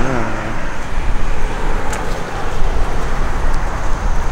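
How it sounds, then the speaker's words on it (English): Steady road traffic streaming past on a Sunday, a continuous broadband roar of tires and engines with no gaps, close and fairly loud. "Constant flow of traffic on a Sunday."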